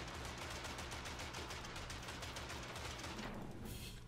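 Gatling gun fire in Totally Accurate Battle Simulator, a rapid, evenly spaced burst of shots that runs continuously for about four seconds at low level, tailing off into a hiss near the end.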